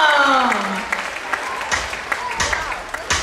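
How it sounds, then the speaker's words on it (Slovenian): Audience at a Christmas party applauding, opening with a voice and sustained tones over the clapping, then thinning into scattered claps and cheers before a rock'n'roll singalong. "En velik aplavz in gremo!"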